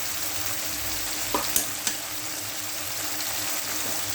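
Country chicken fries with garlic and ginger paste in a pan, giving a steady, close, hissing sizzle, with a few sharp spatula scrapes and clicks as it is stirred.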